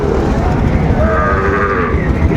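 A Sahiwal cow moos loudly and close by at a cattle market in Dinajpur, one long drawn-out low call over a noisy outdoor background.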